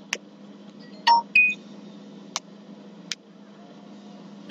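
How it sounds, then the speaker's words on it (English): A phone gives a couple of short, faint electronic beep tones over a quiet room hum, with a few soft clicks scattered around them. "Phone just made a weird noise."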